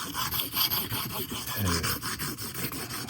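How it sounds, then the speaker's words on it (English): A Morakniv Scout knife's edge is rubbed flat across diamond sharpening plates, producing a steady rasping scrape in repeated close strokes, with no voices over it. "So you just place the edge, lay flat on the stones and rub it."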